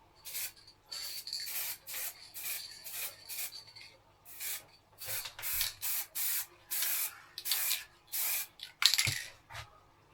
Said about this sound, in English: Just some black spray paint.